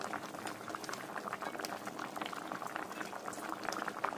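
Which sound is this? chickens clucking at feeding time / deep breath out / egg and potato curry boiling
egg and potato curry boiling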